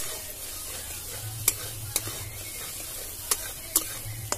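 A spoon stirs an Odia mustard fish curry (machha besara) in a pan with a soft sizzle, broken by a few sharp scrapes and clicks against the pan at irregular intervals, close and fairly quiet.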